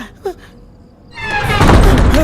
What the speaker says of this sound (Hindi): दरवाजा ऑटोमेटिक खुला